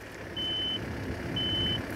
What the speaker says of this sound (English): a quick check to make sure this machine's alarms and audible alerting systems are working